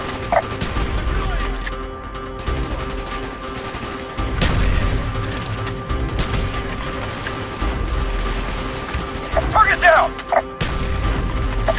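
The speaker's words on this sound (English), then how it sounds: "Gunfire's drawing attention." Scattered gunfire in Call of Duty: Black Ops, a few sharp shots and bursts amid steady mechanical vehicle rumble and background noise, moderately loud throughout.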